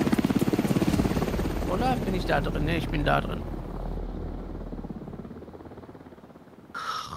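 Helicopter in the video game The Division 2, a loud pulsing rotor thump with engine drone running throughout, under players talking.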